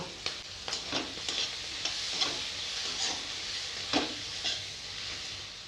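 Spices and chopped tomato with peas sizzle as they are sautéed in a pan for a home-style vegetable dish with fish head, with steady frying hiss and repeated stirring scrapes close by.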